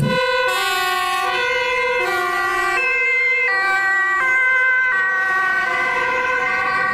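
A toy ambulance's two-tone siren alternates high and low in a steady, regular pattern, loud and close, with no voices.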